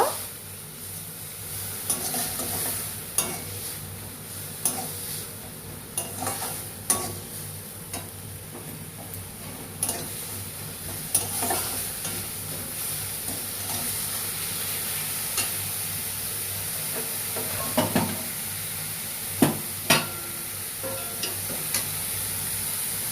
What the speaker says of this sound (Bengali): নুন আর টমেটো পিউরি একসাথে ভালো করে কষা করে নেব